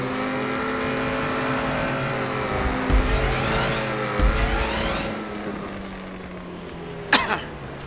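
Car engines roar steadily in a racing video game, a continuous droning whine with shifting revs, a couple of low bumps midway and a sharp crash-like burst near the end.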